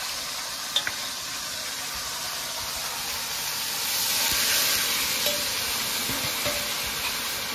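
Water poured into a pan of mustard-marinated hilsa fish for steamed ilish with brinjal, giving a steady close sizzle and hiss that swells in the middle, with light stirring clinks.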